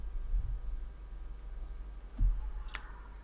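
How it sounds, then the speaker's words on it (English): Faint, close mouse clicks sound twice, widely spaced, over a quiet hum, as a button is pressed in software to create a displacement map. "I'm just going to click on create displacement map"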